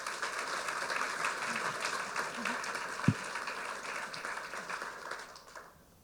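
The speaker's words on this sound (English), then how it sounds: "Would you join me in bringing applause to our panellists?" A conference audience at a national security panel discussion applauds the panellists, giving steady, moderately distant clapping that carries on for several seconds and then fades toward the end, with one sharp thump midway.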